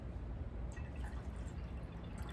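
Liquor free poured into a glass for a hot toddy, a faint, steady trickle of liquid heard alone and close for a couple of seconds.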